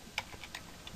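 Light typing on a computer keyboard, a few soft, quick key clicks in an uneven rhythm, faint and close.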